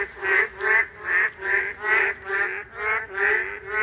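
Frogs croak after rain outside a house in the Philippines: a loud, close, steady series of about eight nasal, duck-like calls evenly spaced about half a second apart, with no talking.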